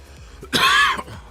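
A single short, harsh cough from someone playing a GT Sport practice session, a close burst of about half a second with quiet background around it.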